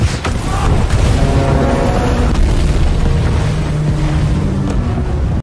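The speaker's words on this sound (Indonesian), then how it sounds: "ledakan tersebut membuat gelombang air yang begitu besar" A loud, deep rumbling underwater explosion of munitions on a riverbed surges with churning water and wash, a heavy roar that holds steady before cutting off abruptly.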